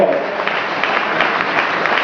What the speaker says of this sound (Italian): è un applauso di solidarietà ai tanti allevatori